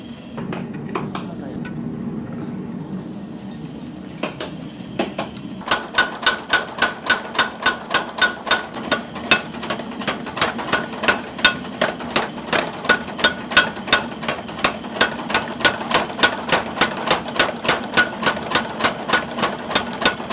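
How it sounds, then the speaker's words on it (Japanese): A heavy hammer strikes hot kitchen knife blade steel on an anvil in a steady, rhythmic series of sharp metallic clangs, dozens of close, loud blows after a quieter lead-in with a low background hum. "これ包丁、今の包丁の材料ですよ。 今から叩きますから"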